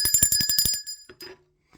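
A bright bell rings in a quick run of about eight rapid strikes, then a couple of softer, lower dings trail off into silence.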